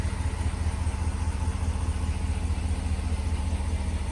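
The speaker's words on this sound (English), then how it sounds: "show you guys the truck running here" A 2020 Ram 1500 Sport 4x4 crew cab pickup idling, a steady low rumble with an even pulsing rhythm heard from close by outside the truck, unbroken and with no talking.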